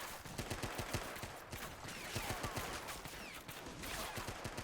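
Japanese machine-gun nests fire on invading U.S. Marines during a WWII beach assault in Men of War, steady rattling automatic bursts layered with distant battle noise, faint and continuous.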